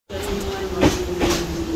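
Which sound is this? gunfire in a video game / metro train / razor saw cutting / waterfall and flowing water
metro train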